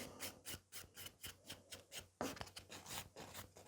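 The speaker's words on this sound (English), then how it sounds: "So I'm really gentle and I'm filing the places I have to file." A nail file rasps across a natural nail plate in steady back-and-forth strokes, about a dozen soft rhythmic scrapes, close and quiet, with no talking.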